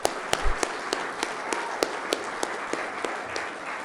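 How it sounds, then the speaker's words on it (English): Audience applause at a city council meeting, sparse, fairly distant clapping with sharp individual claps spread out over the stretch. "a big round of applause for these guys"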